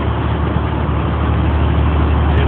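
A heavy-duty 3500 pickup truck with a Cummins turbo diesel engine rolls past on an American road, producing a loud, steady, close engine rumble mixed with road noise.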